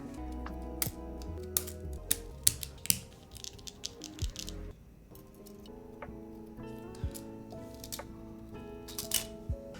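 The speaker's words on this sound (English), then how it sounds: "let's take out our switches quickly and then we'll stick all of them back in here." Mechanical switches being pried out one by one from a split ergonomic keyboard. Sharp, irregular plastic clicks and snaps sound close up over quiet handling noise.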